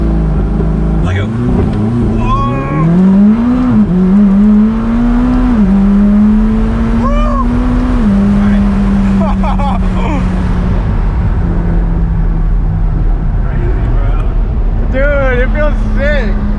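Car engine held at full throttle against the brake in a stationary launch test on a Nissan 350Z with a new 370Z transmission, a loud sustained high drone that climbs then holds steady for many seconds, with people talking over it.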